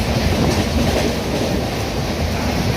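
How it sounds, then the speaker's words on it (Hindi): The Kota Patna Express passenger train speeds along the rails in rain, a steady loud rumble and rattle of wheels and carriages that carries on without a break and without any voices. "कोटा पटना एक्सप्रेस गजब की रफ्तार से दौड़ रही है कोटा पटना एक्सप्रेस"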